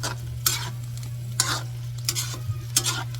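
Ground beef browning in a pan for spaghetti, with a steady close sizzle and several distinct scraping stirs of a utensil against the pan at intervals.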